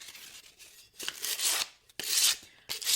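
Sandpaper rubbed over a small metal trash can, using a larger sheet, gives harsh, raspy strokes in three bursts, each swelling and fading, with short pauses between them.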